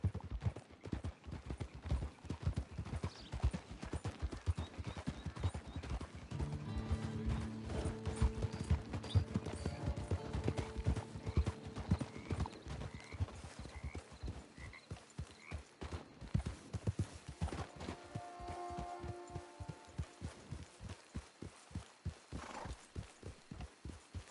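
Horse hooves clip-clop in a steady rhythm while riding in the Western video game Red Dead Online, close and clear, with mechanical clanking and game music layered over the steady trotting throughout.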